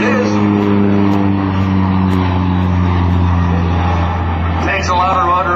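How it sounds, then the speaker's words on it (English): Pitts Model 12 aerobatic plane holding a knife-edge pass at an airshow, its radial engine droning loud and steady with a strong low hum before fading slightly near the end. "We'll hold the knife-edge pass for this Pitts Model 12 aircraft"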